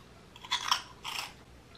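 Close crunching and chewing of crispy German snack puffs flavored with spinach, beetroot and turmeric, two short bursts of bites about half a second apart, with no talking.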